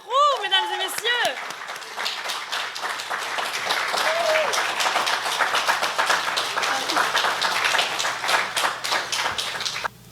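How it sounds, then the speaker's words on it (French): Audience applause greets a poet walking up to the microphone at a poetry event, a dense continuous clapping that fills the room for about ten seconds, with a brief voice heard at the start. "applaudissez-le jusqu'à ce qu'il arrive devant ce micro"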